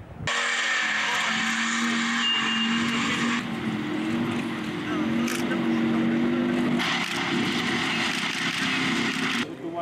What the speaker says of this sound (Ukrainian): ці бійці вчаться керувати танком Т-64